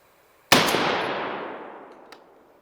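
An M855 rifle round slams into a half-inch mild steel plate with one sharp, loud crack that rings out and fades over about two seconds, followed by a faint tick near the end.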